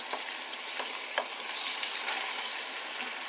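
Tomatoes and meat fry in a pan for spaghetti sauce, a steady soft sizzle with a few light scraping stirs, close but fairly quiet, no talk.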